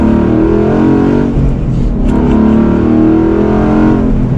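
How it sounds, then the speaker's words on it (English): A Ford Mustang Boss accelerates hard from second gear, its engine roaring loud and steady throughout, with a brief dip in tone as the revs shift midway before the strong drone climbs again. "And then one last acceleration from second gear."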